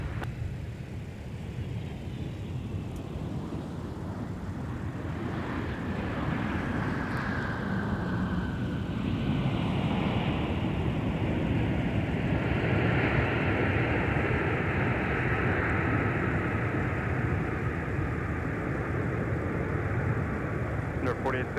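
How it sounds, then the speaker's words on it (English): A heavy Airbus jet rolling out after touchdown at an airport, its turbines a broad, distant roar that swells and holds steady for a long stretch, with a radio voice talking over it. "Cosmic turbines on a heavy Airbus that just touched down."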